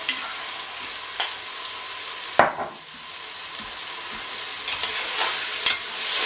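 Minced beef and bitter gourd fry in oil as they are stirred for qeema karela, a steady sizzling hiss broken by spoon scrapes and a louder splash of stirring partway through. No voices.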